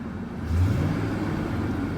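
A 1999 Ford F-150 truck engine catches and settles into a steady, close low rumble, the level jumping about halfway through as it fires and then holding an even idle.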